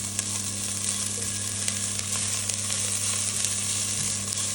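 Garlic, onion and curry leaves sautéing in a pan for sambar, a steady close sizzle and frying hiss with no talking.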